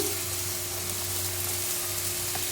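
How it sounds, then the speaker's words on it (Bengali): Potato, eggplant, beans and cauliflower hit hot oil in a frying pan, giving a steady, even sizzle that holds for the whole short stretch with no talk. "এবার আমি একে একে সব সবজিগুলো দিয়ে দেব। প্রথমে দিয়ে দেব আলু, এবার দিয়ে দেব বেগুন, দিয়ে দেব সিম, দিয়ে দেব ফুলকপি"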